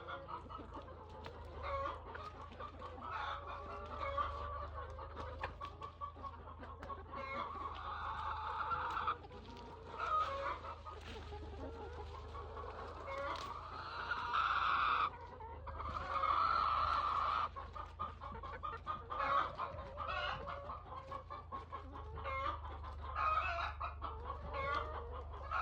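Chickens cluck and murmur close by in a farmyard, repeated clucks and short squawks coming in bursts over a low background rumble, with no one talking.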